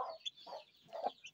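Young chickens, mostly cockerels, make soft, brief clucks and peeps, several separate calls spread across a quiet moment, close by.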